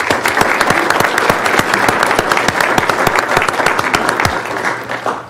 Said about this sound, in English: in a round of applause